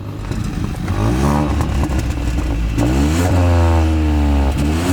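A 2021 Hyundai i20 N Line revs through its twin pipe exhaust, engine note rising and falling in repeated sharp blips with rough crackle, close and loud, no talking.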